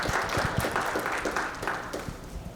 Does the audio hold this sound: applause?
yes